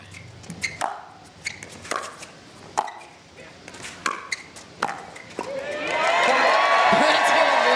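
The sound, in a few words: crowd cheering at a pickleball match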